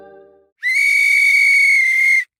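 A referee's whistle, blown by the center official at a volleyball match, gives one loud, sustained shrill blast lasting over a second, preceded by a brief hum.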